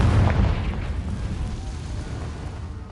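Confringo fire spell bursting in Hogwarts Legacy, a single loud booming explosion at the start that rumbles and slowly fades away.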